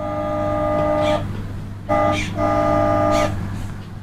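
Toy vehicle horn honking in a few electronic bursts, one long blast, then two more in quick succession with a short gap, loud and close over a steady low motor hum.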